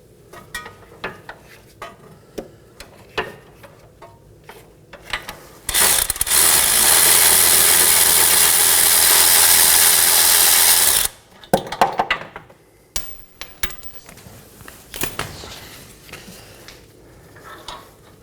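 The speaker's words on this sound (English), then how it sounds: "Now for our front bolt, I'll be using an extension and a swivel on our socket." Ratchet wrench driving a socket on an extension and swivel to turn the front bolt of the lower engine torque strut mount on a 2015-2023 Nissan Maxima 3.5L V6, with bursts of quick clicks around a sustained loud mechanical whir in the middle.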